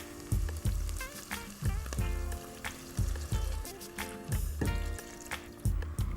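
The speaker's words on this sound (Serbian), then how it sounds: "Sve ovo nalivam vodom i ostavljam da se krčka" Slovak goulash with caraway and salt cooking in a pot after water is poured in, giving a continuous bubbling sizzle punctuated by regular knocking thumps from the pot.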